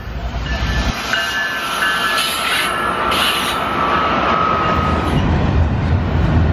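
A long freight train rolls past on a cold morning in Flagstaff, Arizona, a loud steady rumble of wagons with a faint wheel squeal, continuing unbroken from start to end.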